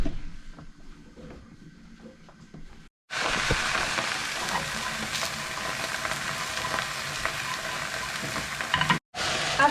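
Thin-cut chicken of the woods mushrooms frying in oil with wild garlic, a loud, steady hiss and crackle that starts abruptly after a quieter stretch of softer kitchen noise and cuts out briefly near the end.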